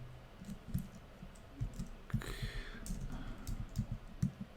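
Rapid computer keyboard typing with shortcut key presses in a Debian console setup, close and moderately loud, irregular clusters of clicks and taps running throughout with no talking.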